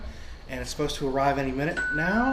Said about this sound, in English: That was the doorbell.